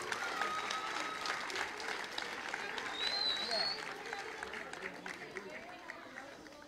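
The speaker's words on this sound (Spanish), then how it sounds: "a quien recibimos con un fuerte y caluroso aplauso" An audience at a public program launch event gives warm, sustained applause, fairly distant and steady, with a few whoops and some background chatter mixed in.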